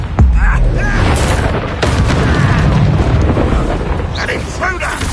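A loud blasting-curse explosion from Hogwarts Legacy booms up close and rolls into rumbling debris and crackle, with spell-casting voices and combat effects layered over the continuous roar.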